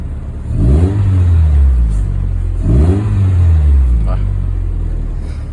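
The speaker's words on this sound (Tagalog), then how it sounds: "Pakinggan natin yung muffler mula sa loob." A car with a 3SFE engine heard from inside the cabin: a deep, loud exhaust drone swells twice as the engine revs up and falls back, with a steady rumble between the pulls and someone talking over it.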